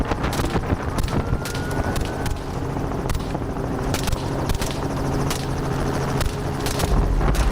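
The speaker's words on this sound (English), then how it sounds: "The helicopter slowly descended as we entered the thick grass area where the remaining wild boars were hiding" Helicopter flying low over thick grassland during a wild boar hunt near a farm, a steady rotor and engine roar filling the whole stretch with irregular thumps and bumps on top, loud and continuous.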